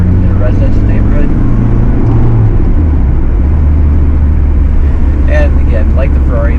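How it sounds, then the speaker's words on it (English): Merkur XR4Ti driven hard through a residential neighborhood, a steady low engine drone building under road and wind noise, with faint voices and brief chirpy sounds near the end. "We're going to give the car some beans, even though we're in a residential neighborhood."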